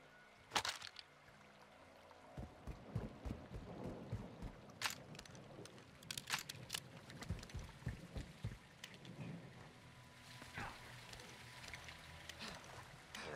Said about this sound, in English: It's raining fucking hard.